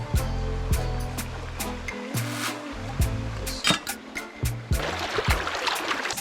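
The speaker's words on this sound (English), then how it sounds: "we just put in the whole grain pasta in the pot. It's bubbling" Whole grain pasta boils in a pot of salted water, giving a steady rushing, bubbling wash of sound with scattered pops and clinks, plus a low hum at the start.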